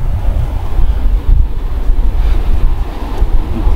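Strong wind buffets the microphone over steady waves breaking on a fine-sand beach along a large lake that looks like the sea. The roar is continuous and loud, with no talking.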